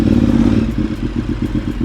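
Ducati Superbike 848 L-twin Evo motorcycle running close by, a deep loud throb that settles into a steady pulsing beat while riding, with no talking.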